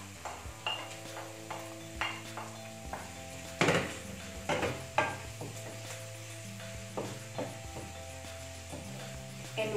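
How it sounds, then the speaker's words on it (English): Garlic and onion sizzle softly in a pan while a utensil stirs and taps against the metal, giving scattered clinks and scrapes over a steady low hum, quiet and close, with no voices. "when you see that the onion is already luminous, then time for you to saute the garlic"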